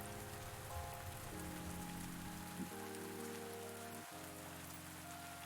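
Rain patters steadily in a life-simulation video game, a faint even hiss of drops with soft game music tones layered underneath and no talking.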